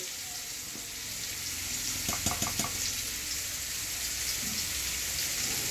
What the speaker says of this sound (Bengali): এখন আমি আলু কুমড়ো ভাজছি